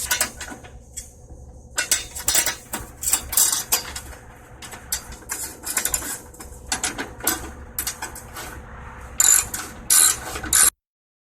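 Cleaned 1/2-inch bolts are driven back into a 1979 Lazy Boy B 400H vintage push mower with a hand ratchet, giving sharp, close metallic clicking in repeated bursts separated by short pauses, then stopping abruptly.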